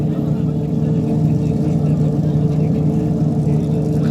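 Racing sidecar engines idle and rev together at the Manx GP on the Isle of Man before a test lap, a steady loud mid-pitched drone with a persistent hum, and a voice talking over it.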